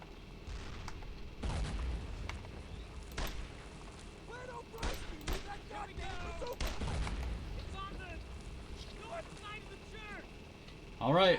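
Scattered bursts of gunfire and heavy blasts echo during a World War II battle in Brothers in Arms: Road to Hill 30, with gaps of quieter rumble and muffled voices calling out between the shots.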